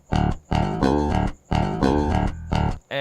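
Dry DI bass guitar with no effects or amp processing, playing a few sustained, clean notes in short phrases separated by brief pauses, loud and close.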